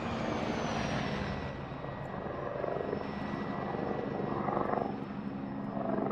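Helicopter in the military game Arma 3, a steady rotor and engine drone that holds loud and continuous throughout, swelling slightly near the end, with no voices over it.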